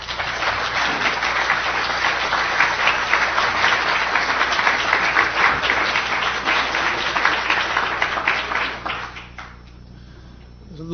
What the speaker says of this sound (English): we owe Lowell a very warm round of applause